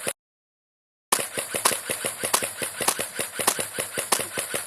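An airsoft gun fires in rapid automatic bursts during an outdoor Black Ops airsoft game in Bristol, Wisconsin, with sharp evenly spaced pops at close range after a brief silent gap.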